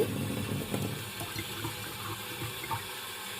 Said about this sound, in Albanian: Bushin me ujë